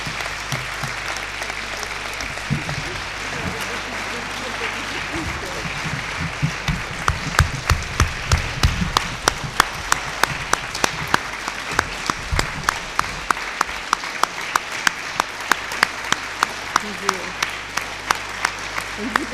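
A conference audience at a World Palliative Care Day event claps for a long stretch, starting as a dense wash of applause and then settling into loud, rhythmic, unison clapping with sharp regular beats and some faint voices underneath.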